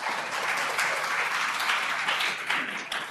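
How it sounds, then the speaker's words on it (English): Steady applause from a crowd, dense and continuous for the whole stretch, moderately loud with no talking over it. "Round of applause for Amy."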